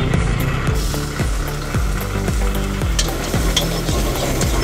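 Egg chilli stir-fried at an Indian street food stall: a steady sizzle under quick, rhythmic metal scrapes and clanks of a ladle against the pan, close and continuous.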